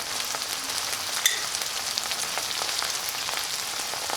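Tomatoes with chili powder and coriander powder sizzle steadily in a hot pan as part of a soya dish, a continuous crackling fry with occasional sharper pops and no talk.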